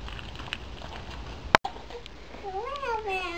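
A cat gives one drawn-out meow near the end, rising and then falling, close by. It follows a sharp click in an otherwise noisy outdoor background.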